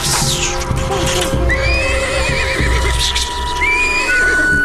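A cartoon horse whinnies in shrill, wavering bursts over clip-clopping hooves and busy background effects, loud and close.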